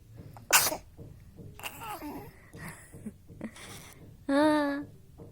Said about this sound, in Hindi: आई छींक आ गई, छींक आ गई, छींक आ गई